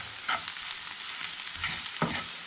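Browned onions with two teaspoons of sugar stirred in a pan, giving a steady close frying sizzle with a few scraping stir strokes, no voices.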